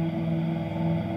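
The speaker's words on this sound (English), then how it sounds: "it's like a vocal synthesizer" A sinister, breathy vocal synthesizer patch from Output's Exhale holds a steady, dark, tonal drone with layered sustained pitches throughout, alone and fairly loud.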